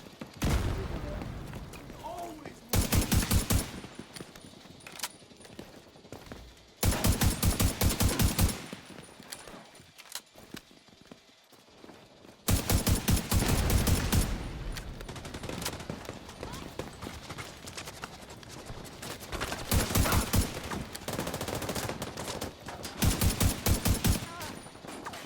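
Bursts of automatic gunfire from the video game The Division 2 arrive in several dense, loud volleys separated by quieter stretches of game ambience, with a voice talking over parts of the action.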